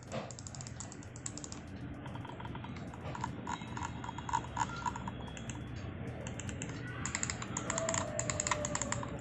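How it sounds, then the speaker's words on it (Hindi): Lenovo Legion M200 gaming mouse clicked repeatedly in quick close-up bursts, a continuous run of sharp small clicks over faint background hiss. "और वही आप Lenovo के माउस पे क्लिक करोगे कुछ इस टाइप का साउंड आएगा।"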